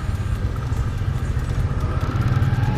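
An Italika 125 FL motorcycle runs at a riding course among cones, its small engine giving a steady, close, rumbling drone with slight clatter throughout, no talk over it.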